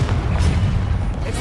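Spell explosions from the video game Hogwarts Legacy go off as a dense, loud run of booming blasts that blur into a continuous low rumble.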